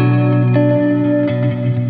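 Electric guitar played through a reverb pedal set subtly, sustained chords ringing steadily with a soft, short wash of ambience trailing each strum, loud and close with no other sounds.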